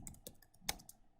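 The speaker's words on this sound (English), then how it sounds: "on the first cell, A1, we're going to type in Thanksgiving" Keys on a computer keyboard are tapped in a quick, close, irregular burst of several soft clicks as a word is entered into a spreadsheet cell.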